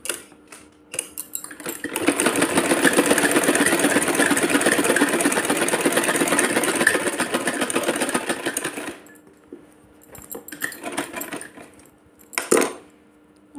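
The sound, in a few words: sewing machine stitching woolen dress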